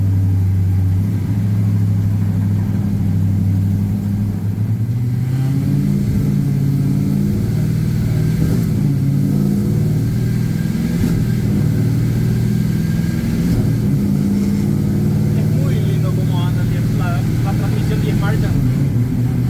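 A Chevy OBS truck with an LS 5.3 V8 and a 10L80 ten-speed automatic, run on a FuelTech standalone ECU, pulls hard with a loud, steady engine drone that climbs and drops through repeated gear changes while someone talks over it.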